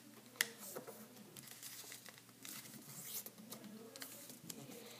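Paper is folded and creased by hand for an origami basket, giving faint close crinkles and soft rustling taps in irregular bursts.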